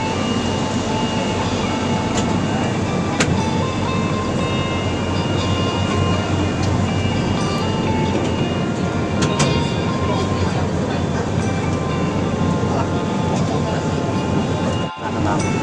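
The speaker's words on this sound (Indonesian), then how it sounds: "Kita sudah berada di dalam kereta api untuk naik ke bukit." A hill railway car climbing Bukit Bendera in Penang makes a steady, dense rumble and whir from inside the carriage, with faint clicks and squeaks throughout and a brief thump near the end.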